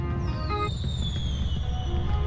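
Fireworks crackle and pop in a dense, continuous burst, with a whistling tone gliding downward overhead; no talking.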